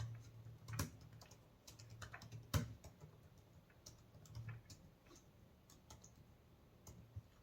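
Computer keyboard clattering as C program code is typed, quiet irregular keystrokes close by with a few sharper clicks, no voice over it.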